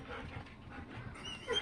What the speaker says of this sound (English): Oop, the doggy's crying.